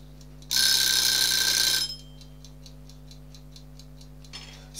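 A mechanical egg timer, set for an hour while making homemade ginger beer, ticks in a steady faint rhythm after a bright, loud ringing burst, with no talking.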